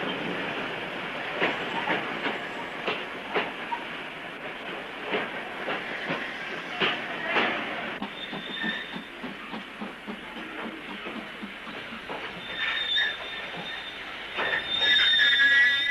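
A passenger train runs on the Somerset and Dorset branch line near Highbridge, heard from on board. Wheels clatter over rail joints in a steady rhythm under a continuous hiss, and brakes squeal toward the end.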